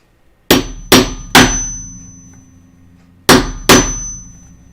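A hammer taps metal rivets flat on sewn overalls, landing five sharp, ringing strikes close up: three quick ones, a pause, then two more, each fading out with no talk.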